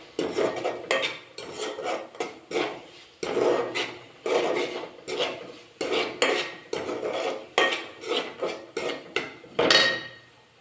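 Ginger garlic paste being stir-fried for an egg fry, a spatula scraping rhythmically across the pan in quick, regular strokes, each with a bright metallic rasp, close and fairly loud with no talking.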